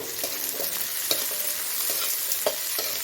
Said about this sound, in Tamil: இந்த குடமிளகா போட்டு நம்ம ரொம்ப வதக்கக்கூடாது. கொஞ்சமாக வதக்கினா போதும்